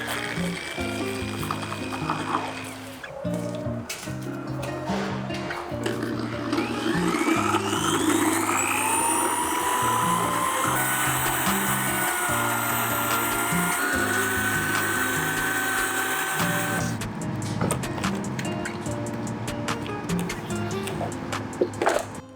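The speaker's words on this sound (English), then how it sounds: "So we'll drill those out, and it should release the door handle" A power drill with a 3/8 drill bit boring out the rivets of a BMW door handle, a steady high whine that rises under load for several seconds, surrounded by repeated mechanical clatter.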